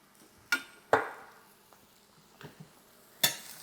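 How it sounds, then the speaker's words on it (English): Browned lean ground beef being scraped in a pan, a few sharp metal scrapes and knocks of a utensil against the pan, spaced apart, with faint sizzling between them. "we just kind of scrape"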